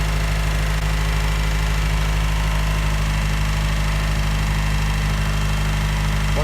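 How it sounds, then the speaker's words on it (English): A built Nissan KA24DE four-cylinder engine running naturally aspirated at a steady idle, with a continuous low drone and a rough, grinding undertone from the flywheel throughout, loud and close. "I feel like I can hear the flywheel grinding away."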